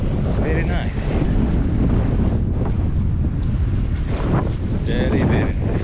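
Steady wind blowing by the water at Ohrid, a continuous broadband rush buffeting the microphone at constant loudness, with faint voices in the background.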